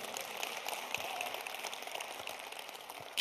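A church congregation claps during a Korean revival service, a dense, even patter of many hands heard at a distance, quiet and sustained for a few seconds.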